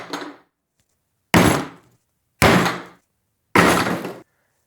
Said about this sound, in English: Then you're going to want to get a sledgehammer.